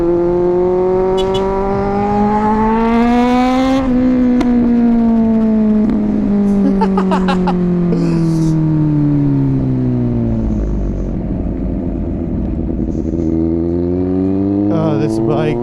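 Engine of a 2023 Kawasaki Z900 motorcycle revving and pulling through gears on the road, loud, close, with rising and falling pitch sweeps and steady wind rush.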